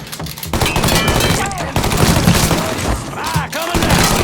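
Rapid machine gun fire in the video game Mafia III, sustained and loud through the whole stretch, with shouting voices and chaotic combat noise underneath.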